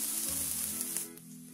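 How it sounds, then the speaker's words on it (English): Onions hit hot oil in a heavy-bottomed pan with a bright, steady sizzle that fades slightly after a second, close and without talk. "Once the oil is hot, add onions."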